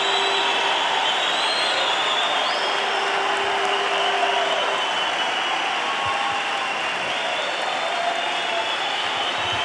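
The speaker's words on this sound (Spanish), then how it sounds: "Aplauden al rey, aplauden a la palabra de Dios." A church congregation applauds loudly and continuously, a dense unbroken wash of clapping that fills the whole stretch with faint tonal sounds running underneath.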